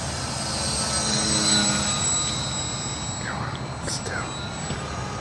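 An RC model Piper Cherokee airplane at full throttle, a steady, fairly loud engine drone with high whining tones that holds for the whole stretch, with faint voices underneath.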